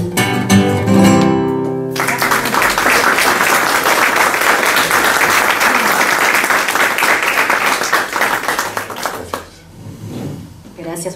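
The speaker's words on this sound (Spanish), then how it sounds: "Gracias por los aplausos." A poetry-and-concert audience breaks into loud, dense applause that runs steadily for several seconds, then fades out, with a voice speaking briefly before it begins.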